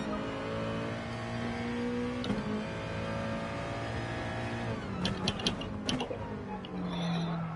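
Race car engine in Gran Turismo Sport at Spa, held at a steady high whine, then dropping through quick downshifts with sharp crackles and blips before settling into a lower drone.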